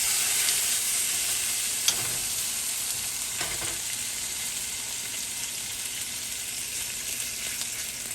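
A Cajun-seasoned snapper fillet frying skin side down in olive oil in a hot pan, giving a steady, loud, close sizzle that runs the whole time with only a couple of small pops and no talk.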